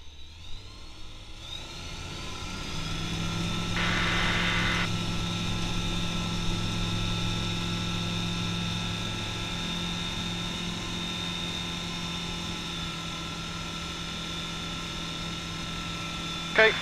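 A microlight aircraft engine drones steadily and builds on the takeoff roll from runway 07, a close, humming cockpit roar with a brief burst of radio noise partway through.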